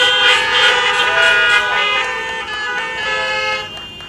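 Car horns honk repeatedly at a school freshmen welcome event, loud overlapping toots sounding steadily for several seconds with vehicle noise underneath and voices in the background.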